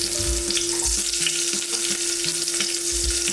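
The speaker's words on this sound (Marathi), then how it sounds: "अर्धा चमचा हळद, मिरचीचे तुकडे टाकायचे" Turmeric and green chilli pieces crackle in hot oil for a tempering, a steady close sizzle with a few soft stirring knocks and a constant background hum, no talk.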